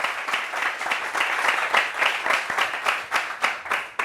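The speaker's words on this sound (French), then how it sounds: "Applaudissements, applaudissements pour mon gars." A TV studio audience claps in a brisk, evenly pulsing rhythm, the applause moderately loud and sustained across the whole stretch with no talk over it.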